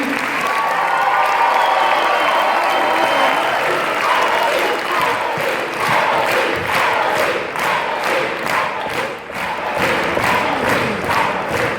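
A concert audience in an auditorium applauding and cheering for a choir director, with sustained clapping and crowd voices, turning into rhythmic, synchronized clapping in the second half.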